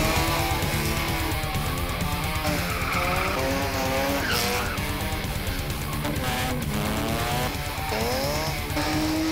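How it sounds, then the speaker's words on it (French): A drifting car on a temporary circuit squeals its tires continuously while the engine revs rise and fall, loud and close throughout with no speech. "Le drift peut se dérouler sur des circuits éphémères."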